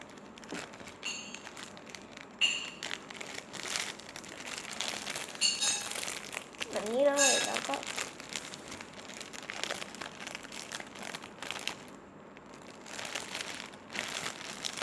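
Paper packaging for a handmade squishy crinkles and rustles as it is folded and handled, with repeated close, crisp crackles and crumpling bursts throughout.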